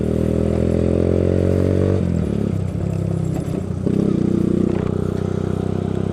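A 2012 Yamaha YBR 125 motorcycle being ridden, its engine droning loudly and steadily up close with a shift in pitch partway through as it changes gear, plus wind rumble and light clatter.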